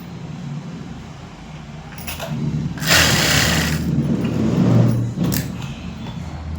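Electric sewing machine stitching piping onto fabric with a quarter-inch margin, a steady whirring run that swells louder in the middle and keeps going near and continuous, with no talk.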